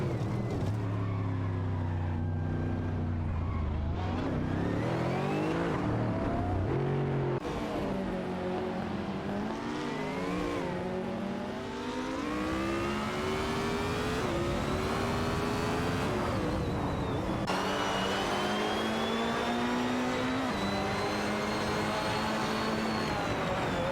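Race car engines in a racing video game drone and rise continuously as cars run in a slipstream, with layered whining tones climbing and shifting through gear changes, loud and steady throughout.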